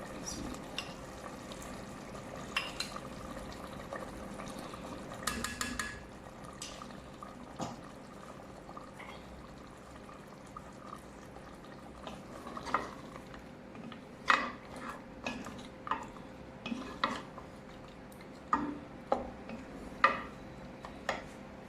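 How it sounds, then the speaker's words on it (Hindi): Mutton frying in a pot over coals as yogurt is added, a steady soft sizzle with intermittent clinks and stirring taps growing more frequent toward the end, close up with no talk. "अभी मैं इसमें दही डालूंगी।"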